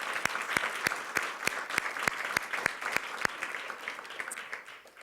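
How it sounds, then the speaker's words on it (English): An audience at a school district governing board meeting gives a warm round of applause for student council advisors, steady clapping with a few distinct sharp claps standing out, easing off gradually at the end. "could you stand so we could give you all a big round of applause"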